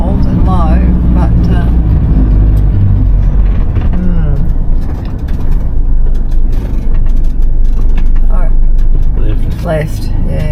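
A van crawls through soft sand dunes in the Simpson Desert on cold, low-pressure tyres, its engine droning and the body rattling steadily while people talk loudly inside the cabin.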